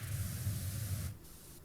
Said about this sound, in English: the water sounds like white noise.